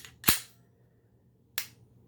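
A Walther P99 pistol fires twice, each a sharp, loud crack with a short decaying tail, the shots about one and a quarter seconds apart in an otherwise quiet space.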